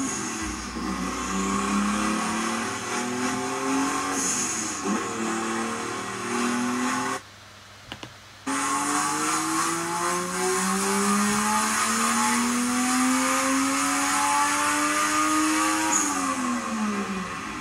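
A turbocharged single-turbo drift car is pushed hard through a drift, its engine roaring loud and close as revs climb and fall in long sweeps, cut briefly by a near-silent gap before the howl resumes with tire noise underneath.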